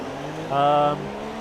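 A Mercedes Formula 1 car spinning donuts in a racing video game gives a brief, high-pitched engine rev that swells and fades within a second over a steady low background hum.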